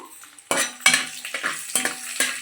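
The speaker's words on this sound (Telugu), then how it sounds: "కిస్మిస్లు వేస్తున్నాను ఒకసారి తిప్పుదాము" A spoon stirs raisins into a ghee-laced rava ladoo mixture in a pan, giving several scraping strokes against the metal with a faint sizzle underneath, close and fairly loud.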